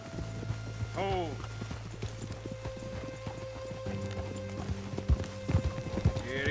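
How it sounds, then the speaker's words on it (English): Horse hooves clip-clop in Red Dead Redemption 2 as riders set off. The hoofbeats are steady and close, with a horse whinny near the start and game characters talking over them. "Mount up then, Morgan."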